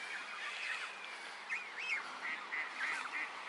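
Faint, distant honking from Canada geese, a few short calls scattered over a quiet outdoor park background.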